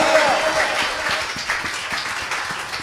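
A church congregation clapping together during praise worship, brisk steady rhythmic claps from a crowd over a hum of voices and music.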